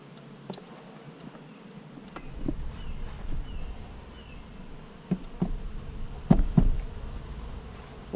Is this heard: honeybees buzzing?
yes